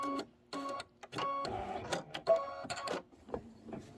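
An embroidery machine sews a placement stitch, running in short mechanical bursts separated by brief pauses, close and fairly loud with no talking.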